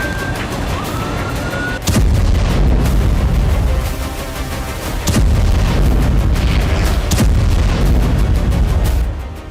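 Several heavy booming explosions strike in succession, loud and close, each one followed by a long rumbling roar.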